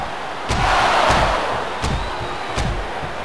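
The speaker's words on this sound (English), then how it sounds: "Look at him feeding off the energy from this capacity crowd." Arena crowd in the SmackDown vs Raw wrestling game, a steady roaring wash of cheering with a few dull thumps and impacts punctuating it.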